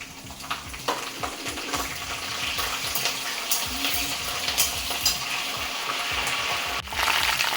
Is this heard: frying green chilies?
yes